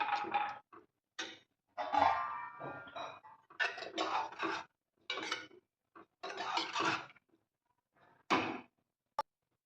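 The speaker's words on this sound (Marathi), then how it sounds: "झाकण ठेवून" A lid goes onto a cooking pot of methi dal in a home kitchen: a series of close metallic clatters and knocks, ending in one sharp click.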